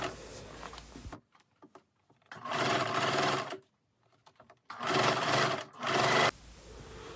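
A sewing machine stitches the collar of a black knit dress in bursts, running steadily for about a second at a time with short pauses between, close and clear.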